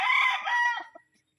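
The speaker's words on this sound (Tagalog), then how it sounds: "Sir Angel, ito yung manok mo" A rooster, a fighting cock, crows once nearby, loud and clear, the call trailing off into a few soft clucks, with no voices.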